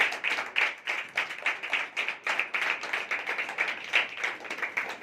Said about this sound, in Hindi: सब ताली लगाए परमेश्वर के लिए।